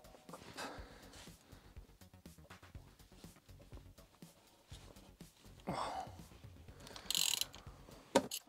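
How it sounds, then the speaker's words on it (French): A wrench works loose the belt tensioner pulley on a BMW E46 330, producing repeated quick ratcheting clicks and metallic scrapes at close range, with a few louder clanks and knocks toward the end. "Maintenant, on vient dévisser notre roulement, poulie, enfin de"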